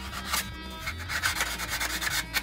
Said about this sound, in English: You just wanna sand it down, get everything smoothed out.